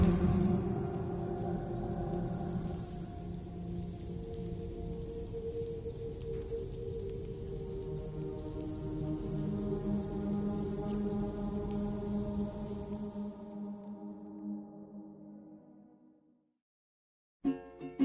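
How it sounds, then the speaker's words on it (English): Rain falls in the video game Death Stranding 2 as a soft, steady hiss of drops under quiet musical tones, fading out toward the end. "Those raindrops are falling on my head, they keep falling."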